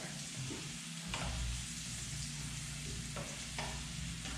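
Hakurei turnips with their greens and garlic frying in a pan, with a continuous close sizzle broken by a few scraping stirs of a utensil.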